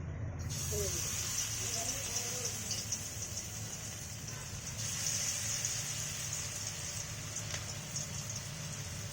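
Fish-oil fritters made with gram flour, onion, green chilli and ginger paste sizzle in hot oil, a steady bright frying hiss that holds evenly throughout with a low background rumble.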